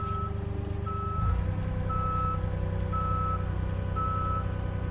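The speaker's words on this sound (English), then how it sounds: "Just backing up out of the workshop here." Regular reversing beeps sound from a vehicle backing out of a workshop in winter, repeating steadily over a loud, constant engine rumble close by.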